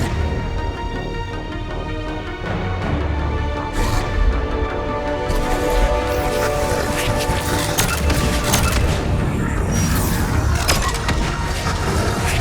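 Heavy, continuous firefight in Mass Effect 3 on the Omega mission, dense crackling gunfire and booming impacts throughout with sharp bursts standing out in the middle.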